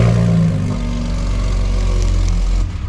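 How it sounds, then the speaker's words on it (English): A Hennessey VelociRaptor 600 Ford F150 pickup with dual exhaust fires up by remote start, settling into a deep, steady rumbling idle that eases slightly in loudness near the end. "we can also remote start this and listen to that exhaust"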